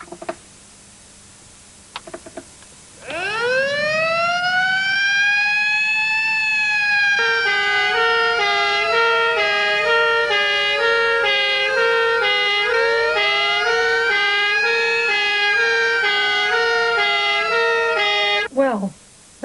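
An ambulance siren starts up and wails loudly and close, rising then cycling between sweeping and alternating tones for about fifteen seconds before cutting off abruptly.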